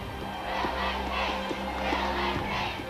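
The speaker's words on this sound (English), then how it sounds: "Crowds called their names and people turned up in costume." Crowds outside Harry and Meghan's wedding in London call out and cheer, a dense, steady roar of many distant voices with rising shouts and whoops layered over a constant hum.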